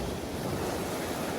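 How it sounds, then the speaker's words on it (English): Choppy sea waves churning sand at a beach, a steady rushing wash of surf with wind buffeting the microphone, loud and continuous with no talk. "Nice bit of chop to the water."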